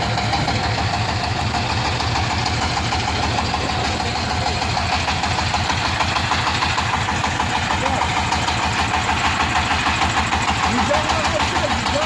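A tractor engine runs throughout a test drive, a close, steady chugging with an even rapid pulse and no breaks, loud and continuous from start to finish.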